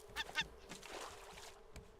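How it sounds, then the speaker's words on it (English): Two short honking squawks from a seagull in a video game near the start, loud and close, followed by softer game ambience with faint scattered clicks. "Take that, seagull."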